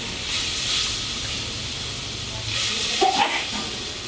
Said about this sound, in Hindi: ये अभी चाकोड़ साग माड़ बॉईल हो गया है